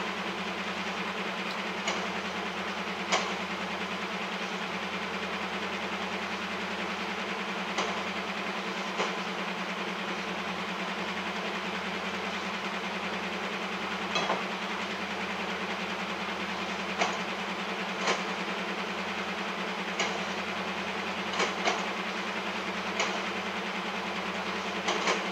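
A steady low rumble of a freight train in Train Simulator on Cajon Pass rolls on continuously, with faint rhythmic clicks of wheels over track joints.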